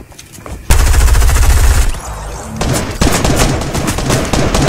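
Gunfire in the Fortnite video game: loud, dense bursts of rapid shots break in after a quiet start, pause briefly, then resume as sustained rattling volleys with sharp repeated cracks.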